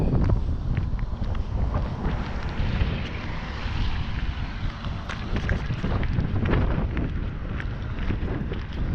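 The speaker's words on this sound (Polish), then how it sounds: "Wiatr w oczach idzie." Strong wind on the summit of Acrocorinth in Greece buffets the microphone in a steady, rumbling roar with gusty bursts throughout, loud and close, with no voices.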